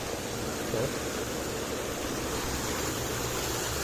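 Strong floodwater rushes in a steady, loud broadband roar that continues without a break.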